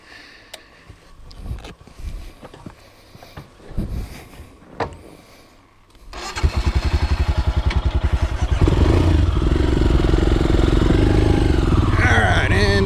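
A Royal Enfield Himalayan motorcycle rides off along a muddy off-road trail. Its engine starts loud and steady after quieter rustling and light clatter, then the revs rise and hold as the bike pulls away close by.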